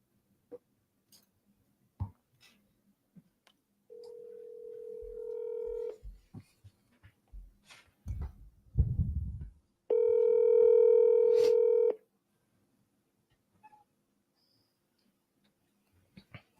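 Telephone touch-tone dialing from an agent outreach call: scattered short clicks, a steady two-second tone, a burst of rapid key tones, then a louder held ringback tone before near silence.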